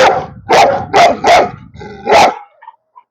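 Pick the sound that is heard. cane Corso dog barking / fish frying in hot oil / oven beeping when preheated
cane Corso dog barking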